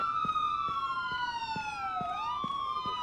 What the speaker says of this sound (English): The sirens are so loud.